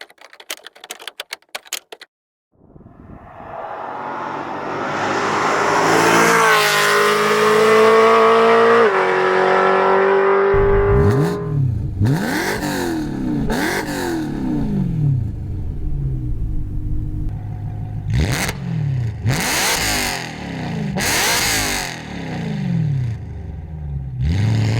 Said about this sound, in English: So that's what my exhaust sounds like. Pretty loud,